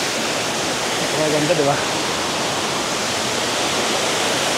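A waterfall along a mountain trail pours out a steady, dense rushing roar that fills the whole clip, with a person speaking briefly over it.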